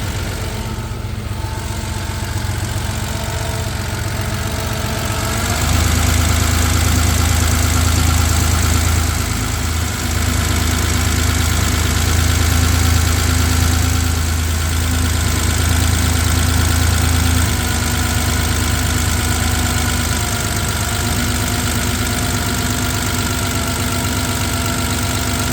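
A 1987 Porsche 911 Carrera's air-cooled flat-six idles steadily close by, a low continuous hum with a faint rise and fall in revs and no voices.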